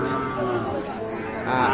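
Sahiwal cattle lowing amid a busy livestock market in Dinajpur, Bangladesh, with steady crowd murmur and overlapping moos throughout.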